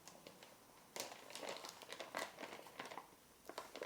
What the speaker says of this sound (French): J'essaie de découper le scotch.